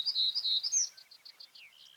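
An American goldfinch sings in Farming Simulator 17 on the Lone Oak Farms map, with a quick run of bright, high chirps and twitters, close and clear, and nobody talking.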